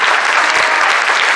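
Audience applause at a book fair talk in Azcapotzalco, a dense, steady wash of many hands clapping, loud and continuous throughout without any talk over it.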